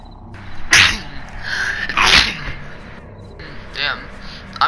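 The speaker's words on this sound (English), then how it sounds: "I've been sneezing a lot." Several sharp sneezes burst out in quick succession, loud and close, with speech between them.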